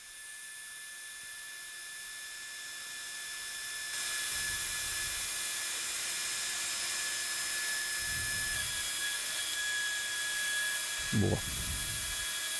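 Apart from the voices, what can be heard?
surgical drill with flexible bit drilling during hip arthroplasty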